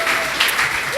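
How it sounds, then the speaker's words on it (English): Audience applause, a brief and fairly loud burst of steady clapping from a crowd. "Yay, round of applause for you guys."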